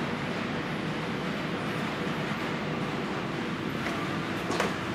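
A 44-ton switcher locomotive on a model railroad pushes cars into an industrial plant near a B&O yard, making a steady, fairly faint rolling rumble and whir with a few light clicks and no voices.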